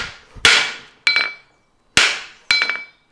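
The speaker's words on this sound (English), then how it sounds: "put my hammer on it, and I'll strike it with another hammer" Four sharp metallic hammer strikes, one steel hammer driven against another held on a reverse horseshoe during forging, each with a bright ringing decay, in two closely spaced pairs with no talk.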